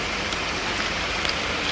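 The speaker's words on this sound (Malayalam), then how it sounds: "മഴ കൂടി." Heavy rain pours down in a dense, unbroken patter of drops striking surfaces all around, loud and even throughout with no voices present.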